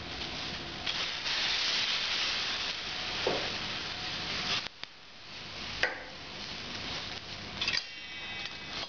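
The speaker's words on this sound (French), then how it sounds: "on va dans un premier temps déglacer au vin blanc" White wine poured into a hot pan to deglaze it gives a loud, continuous steamy hiss and sizzle that holds throughout, briefly dipping and resurging near the middle.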